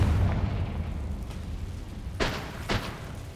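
In the Hogwarts Legacy video game, a Confringo blasting spell goes off as two sharp bursting explosions in quick succession over a low background rumble.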